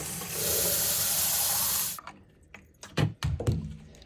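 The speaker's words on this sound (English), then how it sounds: "To fill this clean water tank, all you do is pop this off, and then you just fill it to the line." Tap water runs steadily into the clean water tank of a Tineco S7 Pro vacuum mop for about two seconds, then stops, followed by a few close knocks and handling clatters of the tank.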